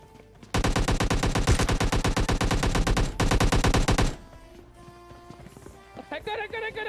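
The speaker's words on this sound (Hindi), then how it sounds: "हमको सामने फायरिंग की आवाज आती है" Rapid automatic gunfire from the mobile game PUBG Mobile Lite rattles in long, dense bursts with a brief break, then fades into quieter game sounds and faint voice-like tones.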